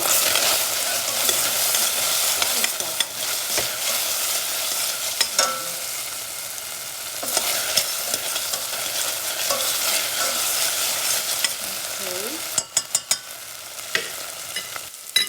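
Onion being stirred as it fries in a pan for a Filipino chicken dish, steady sizzling broken by repeated scraping stirs of the spatula, close and alone with no voices.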